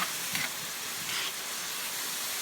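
Three-quarters of a kilo of ground meat frying in a hot pan for baked macaroni, a steady hissing sizzle with a couple of soft surges, close and even.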